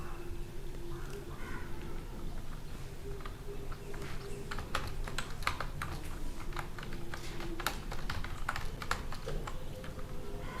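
Steady, close keystrokes patter across a computer keyboard while text is typed into Microsoft Paint, the clicking carrying on throughout over a faint background hum.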